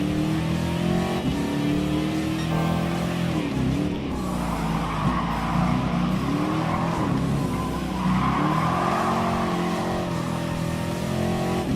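A GT League America Corvette Stingray in Gran Turismo Sport skids through a turn, its tires squealing over a steady, wavering engine drone that rises and dips continuously with no talking.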